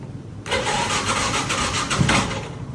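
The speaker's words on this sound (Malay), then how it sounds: "kita start engine" A Yamaha Y15 motorcycle engine cranks and catches, then settles into a steady, close idle with a slight rise in revs near the end.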